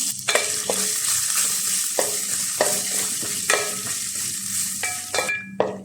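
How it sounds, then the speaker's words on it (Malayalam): Coconut pieces frying in ghee: a bright, steady sizzle with repeated scrapes and clinks of a spoon stirring in the pan, no voices. "നാളികേരം വറുത്ത് ഒരു ലൈറ്റ് ബ്രൗൺ കളറായിട്ടുണ്ട്"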